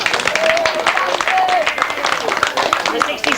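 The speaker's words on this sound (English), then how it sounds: "Expect a few claps from behind me for this one." A crowd at a 1995 British youth grasstrack final claps for a rider, a dense patter of applause mixed with murmuring and a few whistles, fairly close and continuous.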